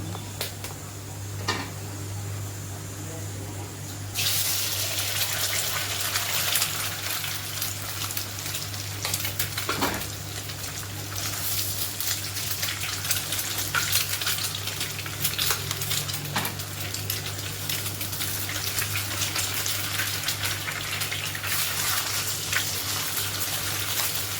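Eggs sizzle and fry in hot oil for a hotel-style egg rice dish, a steady close crackling hiss that swells louder after the first few seconds, with occasional stirring clicks and no talking.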